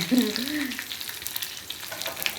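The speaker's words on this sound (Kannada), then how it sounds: "ಒಗ್ಗರಣೆ ಮಾಡಿದ" Garlic tempering sizzles and crackles in hot oil for an okra dish, a close, steady frying hiss with light stirring and no talking.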